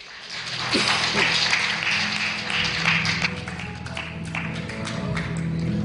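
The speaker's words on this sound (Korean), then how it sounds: "큰 박수로 환영해 주시기 바랍니다" Audience applause welcoming a speaker on stage at a conference talk, a steady clapping wash running throughout with some voices mixed in.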